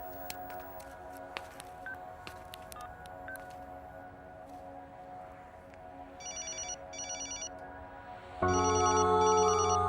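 A telephone rings in a quiet indoor movie scene, with repeated electronic ring bursts that swell into a loud sustained ringtone near the end, alone with no talk.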